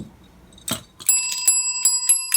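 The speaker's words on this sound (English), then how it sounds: "Hey, we've got bells." A short clatter, then a bright bicycle-style bell rings several times in quick succession, clear and close.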